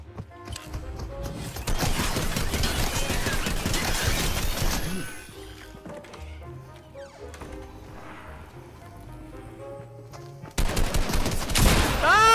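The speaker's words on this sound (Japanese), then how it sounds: "遠くで発砲音" Gunfire in the video game Fortnite: repeated bursts of rapid shots and impacts that come in loud clusters, drop to a quieter stretch of scattered game sounds, then return sharply.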